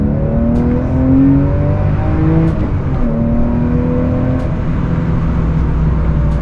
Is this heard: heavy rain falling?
no